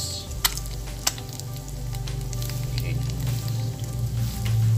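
Onion fries in a pan with a steady, close sizzle and scattered sharp crackles, the hiss growing slightly louder toward the end.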